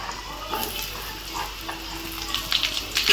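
Potatoes and drumsticks sauté in a pan with a soft, continuous frying sizzle and occasional stirring scrapes, close and moderate in level.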